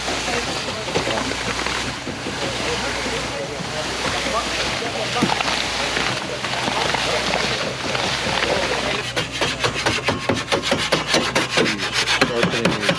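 Tools are sharpened with a continuous close grinding and rasping that sounds loud and dense throughout and turns into faster, more rhythmic strokes toward the end, with voices heard underneath.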